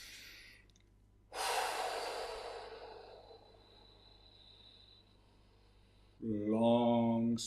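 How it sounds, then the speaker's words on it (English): A single slow, deep inhalation, drawn in steadily for a few seconds close to the microphone in a quiet room, followed by a brief vocal sound. "You need a full breath."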